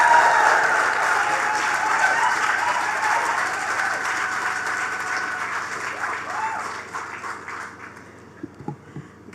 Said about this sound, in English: give her a round of applause, Mrs. Nicole Daniel